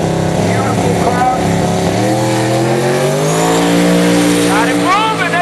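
A turbocharged 1990 Mustang drag car launches hard down the strip, its engine note climbing steadily in pitch as it pulls away, loud and sustained, with an announcer's voice over it.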